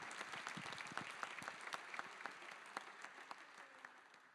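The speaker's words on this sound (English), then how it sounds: "give a huge round of applause to this amazing panel" Audience at the GSIS 2026 conference applauds a panel at the close of a session, a steady spread of many hands clapping with scattered sharper claps, moderately distant and fairly soft throughout.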